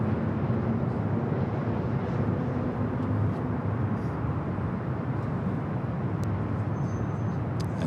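A United Boeing 737-900ER arriving at LAX gives a steady, even jet roar with a low rumble. The noise holds at a constant moderate level from start to finish with no talking.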